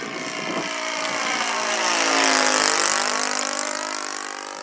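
A model Tiger Moth biplane's engine runs under half throttle outdoors, a steady loud drone with rising and falling pitch as the aircraft passes near, swelling toward the middle and staying strong to the end.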